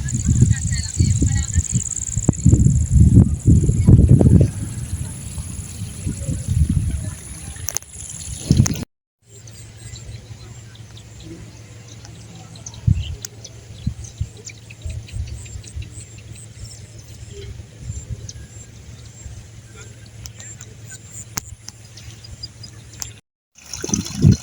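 Water spills steadily through a sluice gate in a paddy field, a soft continuous trickle and gurgle beneath crickets and outdoor ambience, with voices chatting near the start.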